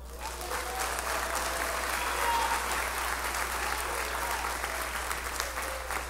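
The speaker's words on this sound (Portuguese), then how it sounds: "palmas para Jesus" A congregation at a national youth church congress claps together in a sustained, even roar of applause that stays steady throughout, with a low hum underneath.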